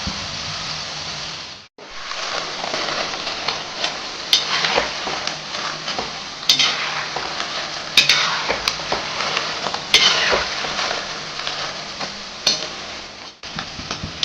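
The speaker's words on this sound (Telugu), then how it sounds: "వేసినప్పుడు హై ఫ్లేమ్లోనే వేపుకోవాలి." Nimki dough strips deep-frying in hot oil over a high flame for Sankranti, a steady bubbling sizzle with occasional sharp clinks of a utensil against the pan, loud and close, with no talking.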